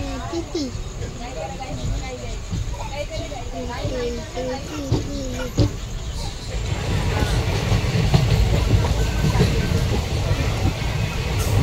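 A Konkan Railway LTT–Sawantwadi train runs at Khed station at night, a steady rolling rumble that grows louder and heavier in the second half, with someone talking over it early on.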